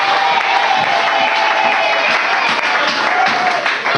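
A church congregation applauds, a dense, steady wash of clapping from many hands that holds at full volume throughout, with faint crowd voices mixed in.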